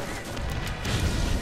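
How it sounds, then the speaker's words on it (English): A large explosion in the video game Borderlands, a dense, booming roar with low rumble that swells and stays loud for over a second, with no clear speech over it. "That was a big-ass explosion."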